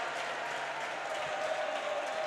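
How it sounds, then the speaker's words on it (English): Roller derby crowd at a WFTDA Playoffs bout in A Coruña, fans of Crime City Rollers chanting and clapping in a steady, distant arena roar that holds evenly throughout. "we've got the Crime City Rollers chant starting up once again in the crowd"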